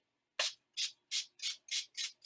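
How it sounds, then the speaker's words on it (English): Seven quick bursts of a handheld spray bottle misting water onto the bottom of a sheet of drawing paper, each hiss short and evenly spaced, close and fairly loud. "I am going to spray the bottom portion of my paper with this spray bottle"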